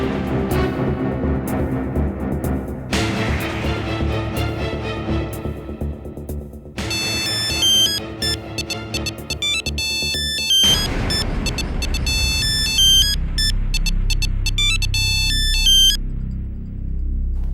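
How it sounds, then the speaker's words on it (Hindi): A mobile phone ringtone playing unanswered, loud layered electronic melodic tones that change pattern several times over a long stretch, with bright repeating high notes near the end and no talking. "इतनी देर से तुम्हें फोन मिला रहा हूँ और तुम फोन ही नहीं उठा रही"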